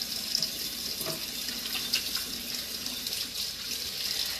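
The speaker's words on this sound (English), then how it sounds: "after I wash my hands since I licked my finger" Hands are rinsed under a running kitchen tap, a steady close splash of water with small shifts as the hands move through the stream.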